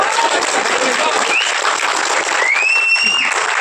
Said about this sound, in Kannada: ಈ ಚಿತ್ರದ ಕ್ಲೈಮ್ಯಾಕ್ಸ್ ಇಷ್ಟ ಆಯ್ತು ಅಂತ ಚಪ್ಪಾಳೆ ತಟ್ಟಿದ್ದಾರೆ ಪ್ರೇಕ್ಷಕರೇ